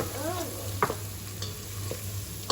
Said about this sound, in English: So I've just melted some butter in a little bit of oil here. And we're going to go in and just cook off the garlic and the onion a little bit.